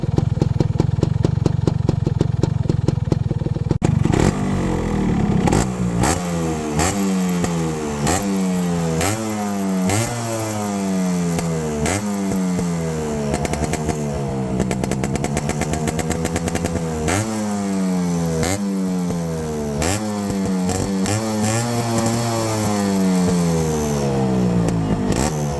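A modified Yamaha RXZ two-stroke motorcycle fitted with a Proton performance chamber exhaust idles briefly, then revs again and again. Each loud, close blip of the throttle climbs and falls away.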